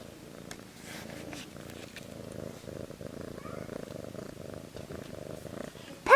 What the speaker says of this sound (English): Tiger's got the loudest purr